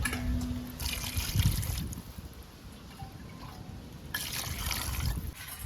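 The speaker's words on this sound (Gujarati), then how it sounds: "તો પાણી નાખી દીધું છે" Water poured into a whole-crab masala cooking on the stove, a soft trickling, splashing pour that starts, eases off in the middle, then returns, heard up close without talk.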